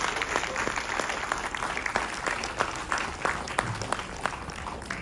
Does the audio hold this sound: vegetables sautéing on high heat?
no